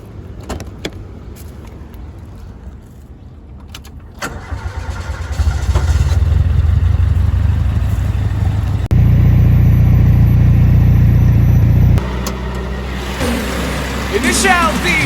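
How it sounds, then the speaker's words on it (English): A Toyota KE70 drift car with a 4AGE 20V engine cranks and catches, then idles and revs loudly with a deep rumble; a steady low drone runs throughout. "let's fire up the car"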